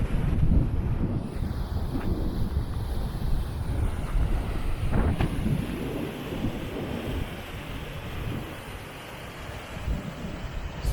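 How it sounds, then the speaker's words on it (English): Strong wind buffets the microphone outdoors at a waterfall viewpoint on the Carretera Austral, a loud continuous roar with gusts rising and falling throughout and no talking. "It's really windy outside."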